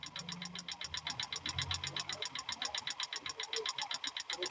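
A Hyundai Xcent engine idles with noisy rocker arms in the head, giving a rapid, steady mechanical ticking over a low running drone, close and fairly loud.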